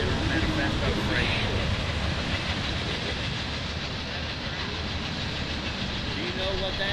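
Freight train rolling past near a cemetery beside the tracks, a steady loud rumble with faint rail clatter holding for the whole stretch, a voice murmuring faintly underneath.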